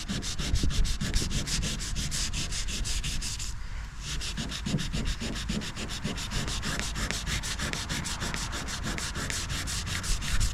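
Sanding on a truck body to feather out a paint repair: rapid, regular back-and-forth strokes, close and steady, with a brief pause partway through.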